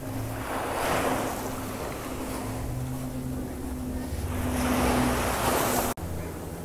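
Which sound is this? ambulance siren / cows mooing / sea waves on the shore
sea waves on the shore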